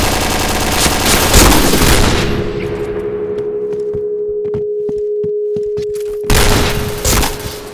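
Rapid bursts of video-game gunfire from a team match, loud and dense at the start, then scattered single shots over a steady hum, with another burst of shooting near the end.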